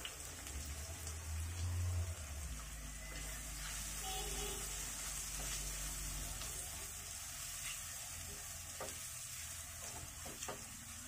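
About one and a half cups of chopped onion hit hot oil for a beef bhuna, giving a steady, soft sizzle and crackle that runs throughout, with faint stirring.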